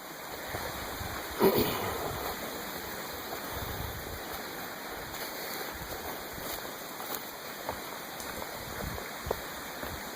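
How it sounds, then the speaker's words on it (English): A creek flows beside a campsite shelter on the Appalachian Trail, a steady broadband rush of running water close by, with a single brief knock or bump near the start. "This is the creek."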